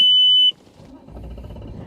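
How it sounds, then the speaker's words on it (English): A loud, piercing electronic alarm beep, a single steady tone for about half a second, cut off sharply and followed by a faint low rumble like a running vehicle outdoors. "I had to lower that alarm"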